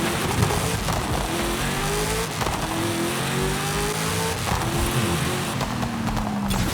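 A Hennessey Venom GT in Forza Horizon 5 accelerating hard, its engine rising steadily through several gears with brief dips at each shift, loud and continuous with a hint of tire noise.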